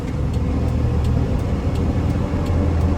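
Imported JDM Toyota Liteace van cruising on the highway with the AC on, a steady low engine and road rumble from inside the cabin, no talk.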